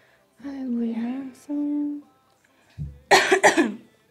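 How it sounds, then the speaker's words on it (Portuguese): Several harsh coughs in a quick cluster near the end, close and loud, after a person speaks briefly. "Perdão pela tosse."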